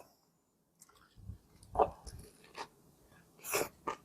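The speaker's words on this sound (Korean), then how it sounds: "그리고 또 샌드위치를 한입 하고" A sandwich being bitten and chewed up close, soft, wet chewing and crunching sounds in short irregular bursts, faint and intimate, with no talking.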